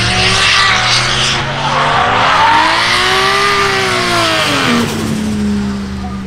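Drift cars sliding through a corner at drift finals at an arena, with loud, continuous tyre squeal and screeching over roaring, revving engines that rise and fall in pitch as the cars pass close by.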